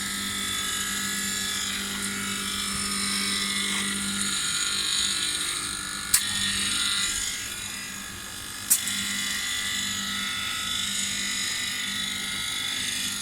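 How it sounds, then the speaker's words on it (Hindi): A vacuum pump evacuating the air-conditioning system of a MAN TGS 40-440 heavy-duty truck gives off a steady, high-pitched electric whine and hum that continues throughout, with two brief sharp clicks partway through. "जैसा कि आप देख सकते हैं इसको वैक्यूम कर रहे हैं।"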